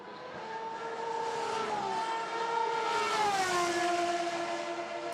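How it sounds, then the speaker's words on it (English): Two Aston Martin Valkyrie hypercars with V12 engines scream past at Imola, a high, rising and falling wail with layered harmonic tones that swell louder mid-pass and then drop in pitch. "it sounds like two 1990s V12 Ferraris running 1-2, but it is, of course, the two Aston Martin Valkyries"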